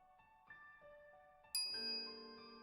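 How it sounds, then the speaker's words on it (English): A microwave oven chimes in the Steins;Gate video game, a few soft tones followed by a brighter, louder bell-like ding that rings out and sustains, with no talking. "I'm greeted by the chiming of a microwave oven"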